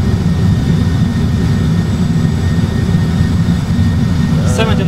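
Airbus A320 jet engines roaring in reverse thrust after landing, a loud, steady low rumble heard from inside the cockpit, with a brief chime near the end.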